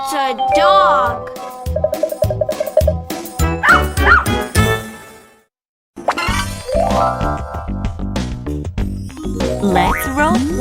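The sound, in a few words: dog barking in cartoon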